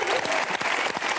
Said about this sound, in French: Bon, on l'applaudit très très fort.